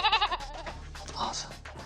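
Goats bleating on a dairy goat farm, a run of wavering, nasal cries up close, with people talking over and between them.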